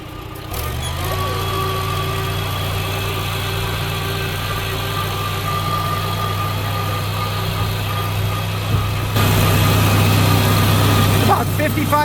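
Farmall Super A tractor engine running at a steady idle with a low, constant drone that rises briefly near the end, heard up close outdoors on a mild, windy day.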